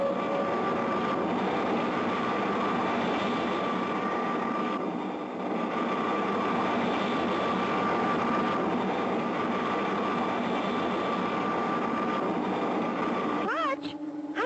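A cartoon spaceship passing low over Mars gives off a steady, droning whine that holds for over ten seconds at an even level, with a voice speaking over it near the end.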